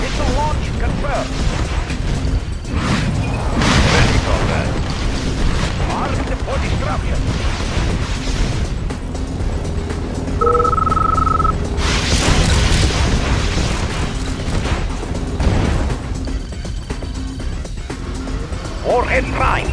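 V3 rocket launch in Red Alert 2, a sustained roaring rumble with booming bursts, and voices speak throughout.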